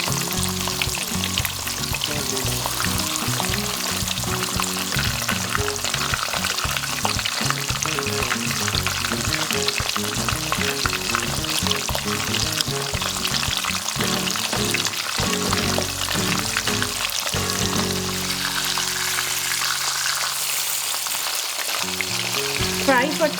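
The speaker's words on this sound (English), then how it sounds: "Fry the fish in batches." Pieces of bata fish fry in a pan for curry with a dense, continuous sizzle and crackle that holds steady and close for over twenty seconds, while background music plays throughout.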